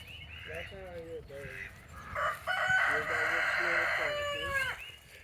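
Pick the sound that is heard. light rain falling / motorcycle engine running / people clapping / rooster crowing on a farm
rooster crowing on a farm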